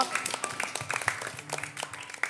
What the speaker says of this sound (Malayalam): നല്ലൊരു ക്ലാപ്പ് കൊടുക്കാമോ?